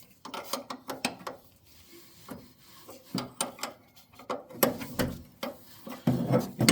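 A hand ratchet loosens the clutch adjustment bolt on an American-built machine with SAE-sized hardware, giving quick bursts of close metallic clicking with short pauses between strokes and no talking.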